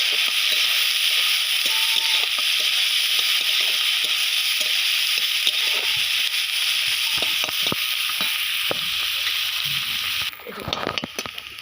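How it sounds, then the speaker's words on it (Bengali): Onions and green chillies fry in hot oil with a loud, continuous sizzle, close by, and stirring scrapes near the end; no one speaks. "এখানে পেঁয়াজ ও কাঁচা লঙ্কা কুচিটা দিয়ে দেবো ভালোভাবে ভেজে নিতে হবে"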